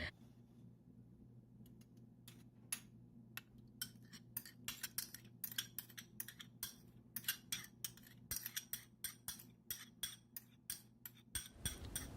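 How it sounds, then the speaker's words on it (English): A spoon whisking yogurt into milk in a pan, with a steady run of quick metallic clinks and taps, close up and rhythmic, over a low constant hum. "Just take a spoon and whisk the milk after you add the yogurt and just keep stirring it for a couple of seconds."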